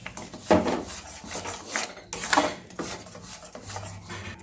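A spoon scraping and rasping against a pot while semolina is worked into a carrot mixture for rasmalai, two louder stirring strokes standing out over softer continuous rubbing.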